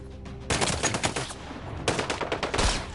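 Two bursts of gunfire ring out in the Sniper Ghost Warrior 3 video game, each a loud crack trailing into a rumbling, echoing tail that fades out, with a short gap between the shots.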